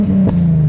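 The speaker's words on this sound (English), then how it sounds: "that's that Megan Racing exhaust, the drift spec" A 2007 Nissan 350Z HR with a Megan Racing drift-spec exhaust idles or revs lightly nearby, giving a loud, steady low drone with a brief bump in the middle.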